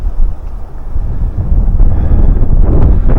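Strong gusts of wind in a park buffet the microphone with low, heavy rumbling that builds toward the end. The sound is loud and close, with no voices.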